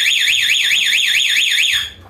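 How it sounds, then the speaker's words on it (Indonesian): A loud motorcycle anti-theft alarm buzzer wails in a rapid rising-and-falling warble, then cuts off abruptly near the end. "Lampu sen keempat-empatnya menyala, depan belakang, dan buzzer berbunyi."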